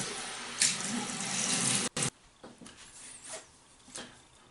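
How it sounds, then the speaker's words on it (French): Tap water pours into a bathroom sink for a face rinse after a traditional wet shave, a close steady rush that stops abruptly, then quieter splashes and drips. "Je vais maintenant rincer ma figure."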